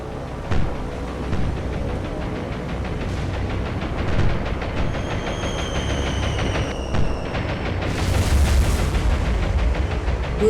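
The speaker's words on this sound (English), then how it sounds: "They scored some really nice hits. 4 direct hits by bombs." Bombs striking targets in a war strategy video game, a dense rumbling barrage of booming explosions and rattling fire, loud and continuous, rising to a harsher blast near the end.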